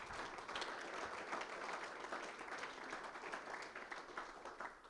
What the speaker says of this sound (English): So if we can give them a little bit of an applause.